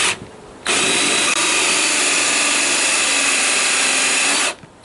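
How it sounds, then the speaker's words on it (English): A 1-inch hole saw in a power drill cuts steadily through wood for about four seconds while building a rocking chair from a kitchen chair; the grinding whine is loud and close, with quiet before and after. "we take our 1-inch hole saw"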